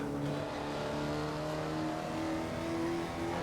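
A 1955 Jaguar D-Type racing car in Assetto Corsa accelerates hard through the gears, its engine note climbing steadily and loud, up close and alone.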